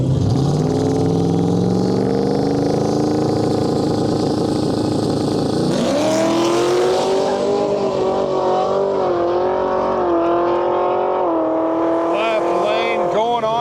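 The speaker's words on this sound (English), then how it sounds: "we got a 6th gen Camaro in our lane and an S197 Mustang far side of the track with a parachute out back" A 6th gen Chevrolet Camaro and an S197 Ford Mustang, the Mustang fitted with a parachute, launch side by side at a drag strip, engines roaring loud and steady before the tone jumps and climbs as the cars pull away, with faint voices underneath.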